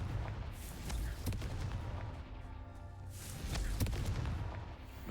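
A Confringo blasting spell explodes in the video game Hogwarts Legacy, giving a couple of loud booming blasts over a dense, rumbling battle background.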